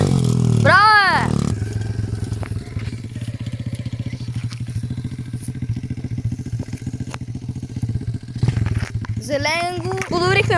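A motorcycle engine runs steadily close by at a dropping spot for bikes, its rough putter lasting throughout, with a short higher rev at the end; voices and whistle-like tones sit briefly at the start and end.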